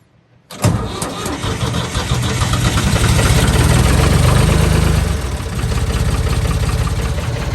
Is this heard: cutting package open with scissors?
no